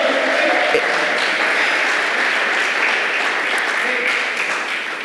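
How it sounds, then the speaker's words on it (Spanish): Sustained applause from a church congregation giving praise to the Lord, a dense wash of clapping that holds steady throughout and fades slightly at the end. "Demos un aplauso al Señor"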